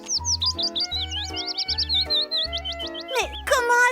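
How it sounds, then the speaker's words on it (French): Cartoon spotted warbler song: bright, rapid whistled chirps and swooping trills repeat over a bouncy musical backing, ending in a fast flurry of high notes. "au chant de la fauvette tachetée."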